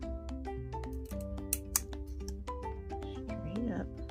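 Scissors cut straight lines in paper for a miniature wand box: a few quick snips, close by, under steady background music.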